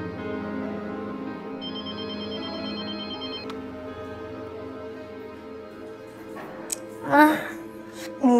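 A telephone ringtone chimes in short repeated bursts during a call, playing over steady low background music, with voices speaking near the end.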